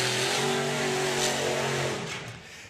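A Ford drag racing car accelerates hard at a drag strip, a loud, broad engine roar with a rising tone that holds, then fades over the last second as it pulls away.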